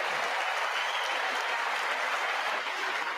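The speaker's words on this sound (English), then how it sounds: "at least he got a clap at the end here" An audience applauds President Biden at the State of the Union address, a dense, even clapping that holds steady for a few seconds.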